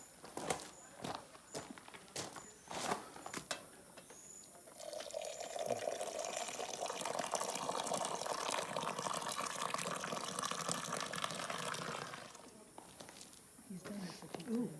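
Hot water pours steadily for several seconds with a hissing, splashing stream during a chocolate-making demonstration in Manuel Antonio, Costa Rica, preceded by clinks and light knocks, and people speak around it.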